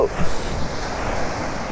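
Ocean surf on Honey Beach at Ankola, Karnataka, rolls as a steady broadband wash mixed with wind noise on the microphone, continuous and fairly loud throughout.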